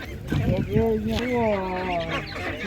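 Ducks quack and honk close by at a busy village animal market, several calls overlapping, with people talking around them.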